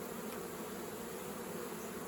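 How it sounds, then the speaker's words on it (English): A steady, dense hum of many bees packed inside a swarm trap box, continuous and even throughout, heard up close with no voices. "and then I'll have to shake these bees out of here, they're just not moving."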